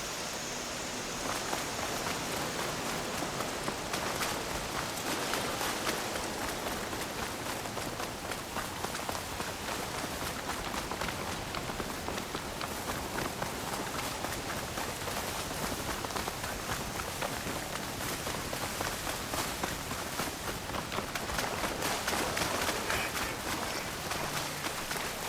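Steady rain falls throughout in the video game Horizon Forbidden West, a dense, even hiss of drops hitting surfaces that stays loud and constant from start to end, with no talk over it.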